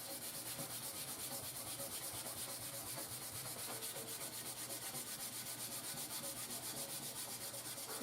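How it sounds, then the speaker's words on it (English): An SOS pad scrubs a crusty, baked-on baking sheet with steady rapid back-and-forth rubbing, close and continuous, with no talking. "a little bit of elbow grease, SOS pad, and it's starting to get a little bit cleaner"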